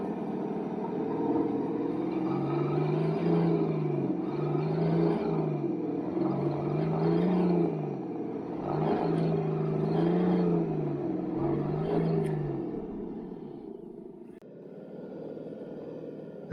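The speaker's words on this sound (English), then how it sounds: "The vehicle was struggling with very little traction" A 6x6 Unimog truck engine labours for traction on a rough off-road track, giving a loud, steady rumbling drone with rising and falling revving in repeated cycles that eases off near the end.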